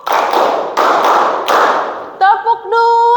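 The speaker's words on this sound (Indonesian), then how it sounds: "Tepuk satu." Classroom of students clapping together on command, three loud, evenly spaced group claps, followed by a voice speaking.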